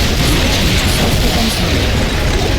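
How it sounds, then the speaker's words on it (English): Rocket launcher fire in Metal Gear Solid Peace Walker, a dense continuous roar of blasts and rumbling explosions, loud and close with no clear breaks. "Rocket launcher."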